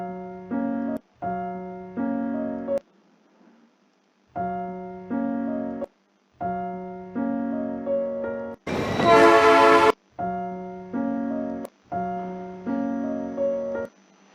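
A train horn sounds in a series of steady blasts with short gaps, broken once by a brief burst of hissing noise; loud and close.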